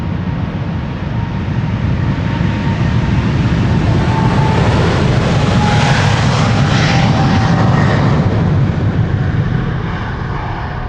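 A China Southern Cargo Boeing 777 freighter climbs out of Amsterdam Schiphol for Guangzhou, a loud, close, broadband engine roar that swells toward the middle and stays strong to the end, with no talking.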